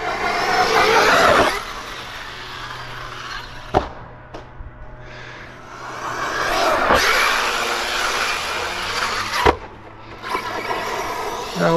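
An Arrma Kraton XL 6S radio-controlled car with crackling CV drive shafts drives outdoors, its electric motor whining up and down in passes, with sharp clacks from landings or impacts.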